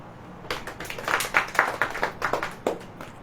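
Audience clapping at a religious sermon, a series of sharp rhythmic hand claps rising in bursts over about three seconds, moderately near and alone without talk.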